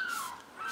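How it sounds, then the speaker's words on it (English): Two harsh, drawn-out herring gull cries sound in quick succession, fairly close, over a faint outdoor hiss near the coast. "Noisy gulls."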